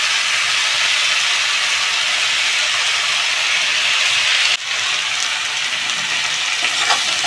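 Water spinach (kolmi greens) fries in a pan with shrimp and garlic, giving a loud, steady hiss and sizzle. A brief dip near the middle sounds like the greens being stirred or more being added before the crackling frying continues.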